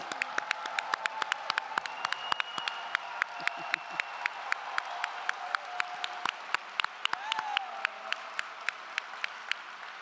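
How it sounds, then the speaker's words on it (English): Scattered audience applause at an annual community celebration, with distinct individual claps popping out irregularly over a quiet, distant crowd murmur and faint voices. "Round of applause."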